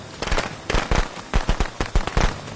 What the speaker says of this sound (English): This bitch is just throwing fireworks at absolutely nothing.